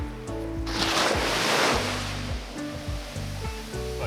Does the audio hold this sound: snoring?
no